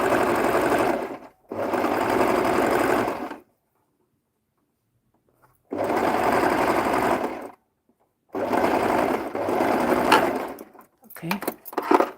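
Sewing machine stitching a 1 cm seam on an upcycled sewing project, running close and steady in four separate bursts with silent pauses between them and a short stuttering run at the end.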